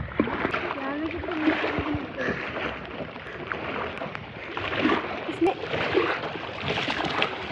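Water from Sattal lake splashes against a small boat in a steady, close, busy wash with no single clear splash. Voices talk over it in places.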